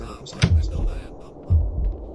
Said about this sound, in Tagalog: May tibok ng puso.